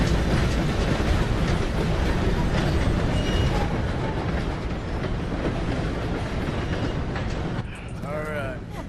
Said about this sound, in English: Gotta beat that train, Morgan!